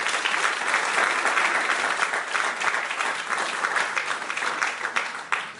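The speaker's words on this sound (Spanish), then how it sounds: "Dale un aplauso al Rey." A church congregation claps loudly and steadily for several seconds, a dense, sustained wash of hands with no pauses and no voices above it.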